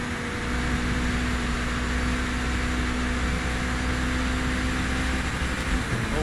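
A race car engine held at its rev limiter in the Project Motor Racing video game on Xbox Series X, a loud constant droning tone that barely changes pitch for several seconds, with no talking.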